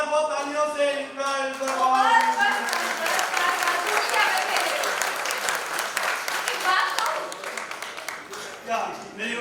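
The audience at a children's singing competition grand finale in Mumbai welcomes the young singers with lively clapping that swells and holds steady, and a host's voice is heard at the start.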